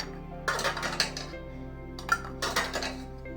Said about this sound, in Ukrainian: Закриваємо кришками.